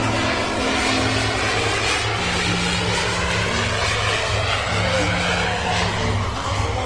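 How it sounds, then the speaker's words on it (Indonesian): A small propeller airplane painted blue, with its propeller at the nose, drones steadily and loudly for the whole stretch in a continuous engine hum. "Ini kapal terbang."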